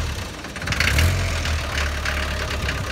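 A Land Rover Series III engine idles steadily with a low, even rumble, loud and close, with a slight swell in the first second.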